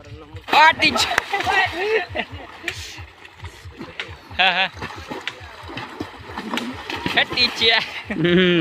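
People jump and splash into a river on Dussehra, near a tractor being washed. Splashes break in bursts under a steady stream of excited shouting and chatter from several nearby voices.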